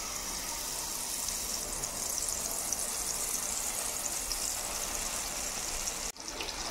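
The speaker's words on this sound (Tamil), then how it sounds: "இப்போ இந்த கரைச்ச பவுடரை இதுக்குள்ளே சேர்த்துக்கலாம். எல்லாமே தண்ணியில் கலந்து இதில் ஊற்றிக்கலாம்." Spice powder mixed in water poured into hot oil in a pan for chole masala, giving a steady, close, wet hissing and gushing sizzle throughout, with a brief break near the end and no talking.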